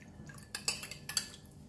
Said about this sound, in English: So we're going to mix all of this together.